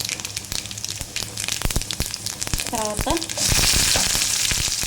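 Garlic and tempering seeds hit hot oil with loud sizzling and crackling pops, the frying rising into a steady hiss toward the end, while a person speaks over it.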